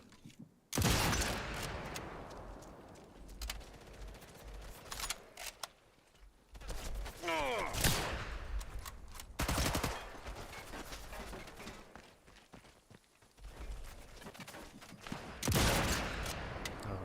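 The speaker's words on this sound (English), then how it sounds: "the machine gun" Machine gun fire in the video game Sniper Elite 5 comes in repeated loud bursts separated by short gaps, with sharp close shots and echoing tails throughout.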